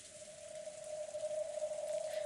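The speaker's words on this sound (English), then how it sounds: "The wind and rain slammed against and shook the window frame, making it creak loudly." Wind and rain beat against a window in the visual novel Umineko When They Cry, a steady hiss of rainfall beneath a sustained low tonal drone, gradually swelling in loudness.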